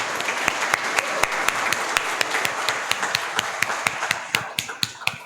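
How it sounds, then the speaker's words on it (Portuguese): A church congregation applauds new members during a Sunday worship service, a dense steady wash of clapping with sharper individual claps standing out toward the end, fairly close and without talk. "Uma salva de palmas para os nossos novos membros."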